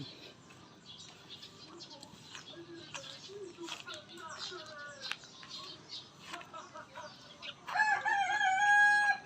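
Chickens and a rooster kept on a rural property cluck and chirp nearby, and a loud rooster crow rings out near the end, with faint background voices.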